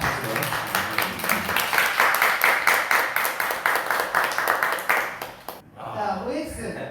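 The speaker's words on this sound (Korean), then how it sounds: "나오실 때 큰 박수로" A congregation at a Sunday church service claps in sustained applause for several seconds, a dense rhythmic patter that fades out near the end, followed by a brief murmur.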